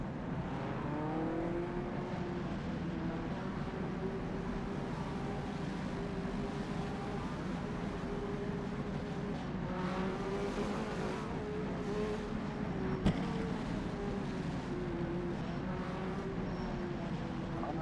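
Race car engines at the 1985 CART race in Long Beach drone steadily through the whole stretch, a dense, continuous roar with rising and falling pitch sweeps as cars pass, plus one sharp click near the end.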